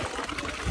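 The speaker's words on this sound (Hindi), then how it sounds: "ये देखो पानी पी रहा है अभी ये।" A horse drinks water on a rocky mountain trail, a brief soft trickling and slurping of liquid heard close by.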